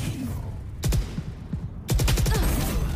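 Bursts of gunfire from the Valorant video game: rapid repeated shots around one second, then a denser volley near the end, loud over constant background game noise.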